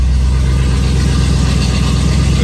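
A 390 V8 runs on high idle through a stainless exhaust, a loud, constant, close rumble with no change in pitch.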